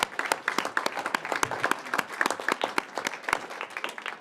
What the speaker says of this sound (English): let's do another big round of applause for these community leaders